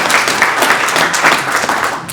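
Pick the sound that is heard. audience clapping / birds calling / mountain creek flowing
audience clapping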